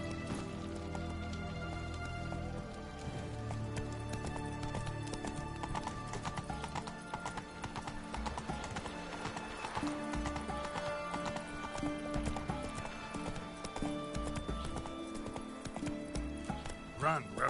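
Roach, a horse in The Witcher 3 video game, gallops with steady rhythmic hoofbeats and an occasional whinny, set against game music and voices talking over the run.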